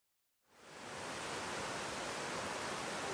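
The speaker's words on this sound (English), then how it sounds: "Just another little beautiful waterfall." A small waterfall on a mountain hiking trail at Lake Ohara, its steady broadband rush starting after a brief silence and holding loud and even.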